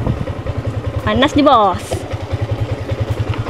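A Yamaha Y16ZR motorcycle idles nearby with a steady, throbbing pulse, while someone talks briefly over the engine before it keeps chugging evenly on its own.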